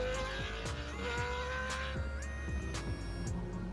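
A Toyota Supra race car with a swapped Judd V10 screams past on a time attack track, its engine note rising and falling sharply through gear changes, loud and near with some tire squeal.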